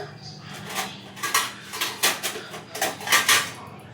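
A lid goes onto a brass cooking pot holding soaking lentils in a home kitchen, giving a run of close metallic clinks and clatters, about nine short knocks spread over a few seconds.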